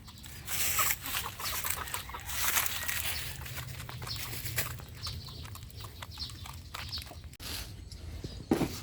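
Young Bulik chicks cluck and peep softly while feeding at a farm, a faint, continuous chatter of fowl with light rustling and no talk.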